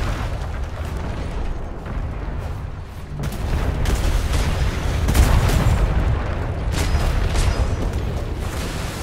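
Ship cannons fire in the Atlas video game, a rolling series of heavy booms and bursts layered over continuous battle rumble, growing louder midway with repeated blasts.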